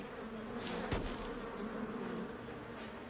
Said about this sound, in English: The wasps can just fly straight through the trees